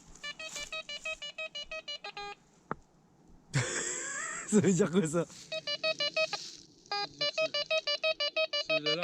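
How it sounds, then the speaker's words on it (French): Repeated bursts of steady electronic beeping from a metal detector alarm signaling a large iron object, rhythmic and fairly loud, with a brief spoken question in the middle. "C'est une alarme, c'est pour me dire que c'est un gros truc de fer."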